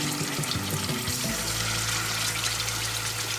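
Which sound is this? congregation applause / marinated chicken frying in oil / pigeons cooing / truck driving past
marinated chicken frying in oil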